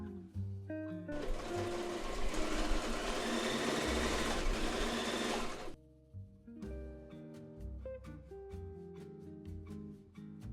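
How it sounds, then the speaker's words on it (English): Sewing machine stitching down the front of a jean skirt, a steady close whirring run of several seconds, then quieter clicks and handling sounds as it stops. "I'm gonna go ahead and sew the front down so I can have a general idea of how the skirt's gonna look"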